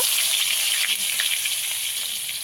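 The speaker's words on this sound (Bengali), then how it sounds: "এই তেলের মধ্যেই আমি আলুগুলো ভেজে নেব।" Potato pieces sizzle in hot oil with a steady, dense crackling hiss that stays loud and even throughout, with no voices over it.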